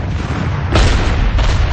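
Wartime cannon fire from the French guns at Casablanca and Oran as American and British forces arrive, heard as dense, rumbling booms that swell and overlap in a loud, continuous roar with a sharp surge partway through.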